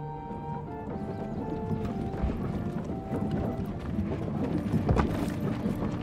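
Horse hooves clip-clop in an irregular walking rhythm over a soft game-like ambient background with faint tonal music, in the video game Manor Lords.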